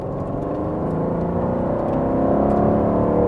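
A 2018 Aston Martin Vantage V8 engine hums and slowly builds in pitch as it accelerates, a smooth steady drone without pops or bangs.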